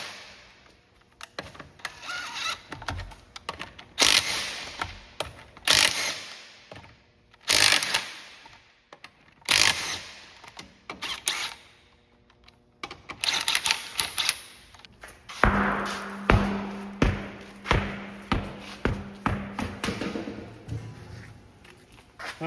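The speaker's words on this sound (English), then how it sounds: "we're gonna take this wheel off, which should be 22 millimeter wheel nuts" An impact wrench removing 22 mm wheel nuts from a 2013 Chrysler 300 on a lift, loud rattling bursts repeated in a series of separate runs with short pauses between nuts.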